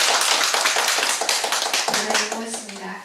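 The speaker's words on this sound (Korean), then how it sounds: "여러분 크게 박수 한번 부탁합니다" An audience at an indoor Cheondoist dialogue gathering on the climate crisis claps loudly together, the quick overlapping claps thinning as a speaker's voice comes in over them.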